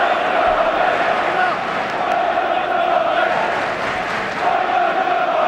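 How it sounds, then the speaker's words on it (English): Football crowd at Chelsea v Tottenham, an FA Cup quarter-final at Stamford Bridge, in March 2007: a steady, massed roar of chanting fans filling the stadium, loud and unbroken with a sustained tonal swell. "Crowd really finding their voice now."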